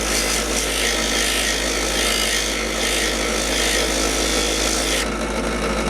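A soft pad rubs over a soft aluminum rear camera mount for a GoPro, making a continuous, close, even scrubbing hiss that stays steady throughout with no pauses and no voices.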